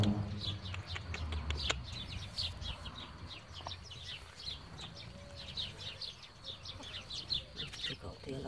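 Brahma hens and a rooster in a backyard flock, with a steady run of short bird chirps and clucks over low rumbling background noise, while a person speaks nearby.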